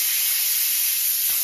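A pressure cooker of meat on the stove lets off a steady, loud, high steam hiss that holds without a break for the whole short moment.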